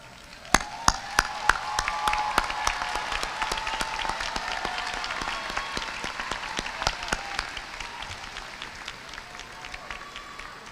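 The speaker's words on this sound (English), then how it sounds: "Graduates, would you please stand and join with me in applauding your parents," Graduation audience of parents, friends and family applauding at a high school commencement ceremony, a broad sustained wash of crowd clapping with sharp individual claps punctuating it, steady and moderately loud throughout.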